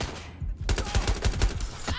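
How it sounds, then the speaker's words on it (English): Rapid bursts of gunfire in the video game Watch Dogs Legion, a dense crackling volley of repeated shots that starts after a brief lull and continues loud and close. "I'm getting shot a lot here."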